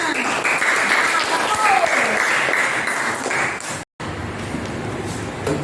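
A class of children applauds during a school lesson, a dense burst of clapping that runs on steadily, with voices over it, then stops abruptly before a quieter stretch.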